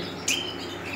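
A single short bird chirp rings out once, near and fairly clear, over a steady low background hiss, then the air falls quiet.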